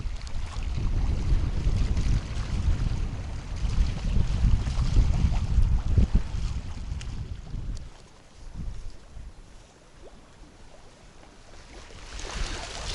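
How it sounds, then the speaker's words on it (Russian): Strong wind and surf churn up a Volga river shore in a headwind, a loud, rough, gusting roar with crashing wash that drops away after about eight seconds and swells again near the end, with no talk. "Сильный прибой, очень много мути подняло."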